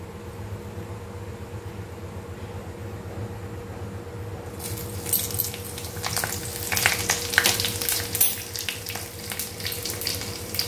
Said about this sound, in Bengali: এই যে কড়াইয়ে সরষের তেল দিয়ে দিয়েছি, এই যে বড় চামচে 2 চামচের মতো সরষের তেল দিয়েছি। এরপর এর মধ্যে এই জিরে আর শুকনো লঙ্কাটা ফোড়নে দেবো।